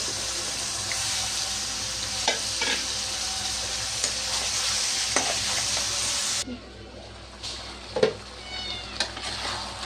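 Pangas fish heads sizzling in a pan while being stirred, a close crackling fry with repeated scraping stirs, louder at first and then quieter and more spaced out.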